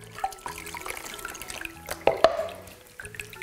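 Water pours and drips from a cup onto a small toy puppy being rinsed in a baby doll bathtub, a few splashy spills and trickles up close, alone without talk.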